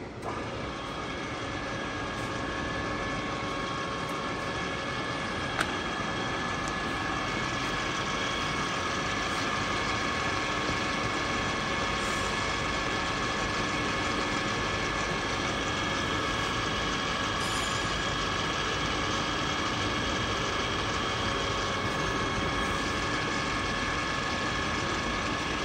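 Ooya RE2-1300A radial arm drill, a Japanese machine, its spindle travelling with a continuous mechanical hum and whir, steady and fairly loud throughout with a faint click or two.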